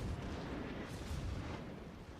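Naval gunfire from an enemy warship in World of Warships rumbles as a continuous low, booming roar of distant artillery, steady and moderately loud throughout with no clear separate shots.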